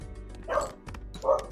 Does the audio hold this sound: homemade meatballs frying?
no